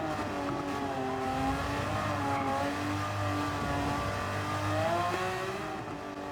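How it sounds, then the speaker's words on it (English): Race car engine at full power in Gran Turismo 7: a loud, sustained high-revving whine with shifting harmonic pitch, steady throughout with small gear changes and no talk. "I'm going to turn the engine up and run the car as fast as I possibly can"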